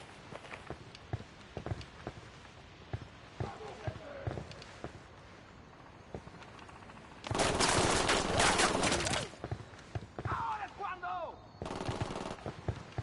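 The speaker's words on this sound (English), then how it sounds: "I'm opening fire." Gunfire in the Ghost Recon open beta shooter, with scattered single shots and then two dense automatic bursts, set among footsteps and other game sounds.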